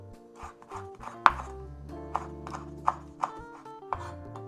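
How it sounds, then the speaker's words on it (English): Knife slicing rolled-up kaffir lime leaves thin on a cutting board during rendang prep, a series of light, irregular chopping taps, one sharper knock, over a low steady kitchen hum. "Now with the kaffir lime leaves, I'm going to shred them"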